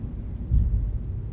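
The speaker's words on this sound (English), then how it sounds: "Listen to that. There's like thunder." Low thunder rumble in the fantasy video game Baldur's Gate 3, a brief deep roll swelling midway and fading, heard alone with no talk.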